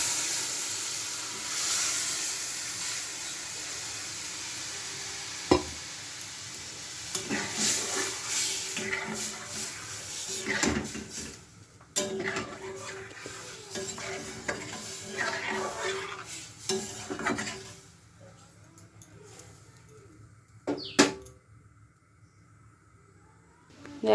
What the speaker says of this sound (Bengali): এই সময় আমি ডালটা যেটা সেদ্ধ করা ছিল দিয়ে দেবো।